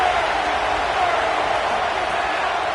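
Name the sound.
football stadium crowd roaring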